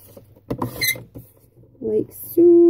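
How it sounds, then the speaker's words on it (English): A squeaky paper trimmer cuts through paper up close, giving several creaks and scrapes that end in a sustained high squeal, while a person speaks briefly in between. "I'm just going to take my trimmer, my squeaky trimmer, and I'm just going to cut off where I need it"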